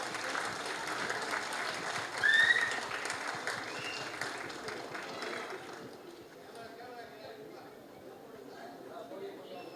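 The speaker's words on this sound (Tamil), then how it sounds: "நம்ம டாக்டர் ஜெயந்திலால் கடா அவர்களுக்கு ஒரு நல்ல கைத்தட்டல் கொடுத்துடலாம்" At a film pre-release event, an audience claps for Dr. Jayanthilal Kada, a moderate burst of applause peaking early and fading out after a few seconds, with people talking beneath it.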